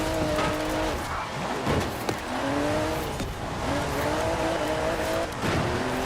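A 1991 GMC Syclone accelerating on tarmac in Forza Horizon 4, its engine climbing in pitch through repeated gear shifts, loud and close with steady road noise and no voices.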